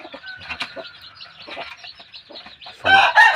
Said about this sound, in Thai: ลูกไก่ก็จะมีทั้งหมดอยู่เจ็ดตัวนะครับ